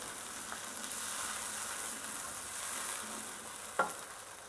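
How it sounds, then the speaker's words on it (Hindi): Onions frying with a tomato and green chili paste for spicy potato curry, a soft steady sizzle with a couple of stirring scrapes, moderately quiet and close. "इसको अच्छे से हम टमाटर के साथ भून लेते हैं"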